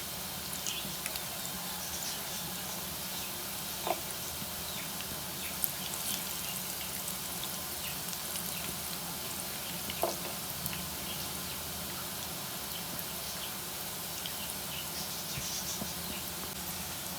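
Arvi leaf rolls (arvi ke pattey) fry in oil in a pan, giving a steady, even sizzle with faint crackles and occasional small pops, close by and with no talking.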